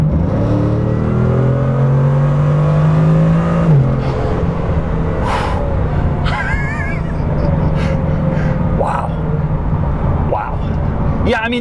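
A Bugatti Chiron floored at full throttle, its engine note climbing steadily then dropping as it shifts, followed by a sustained roar with whirs and whooshes, loud and close inside the cabin.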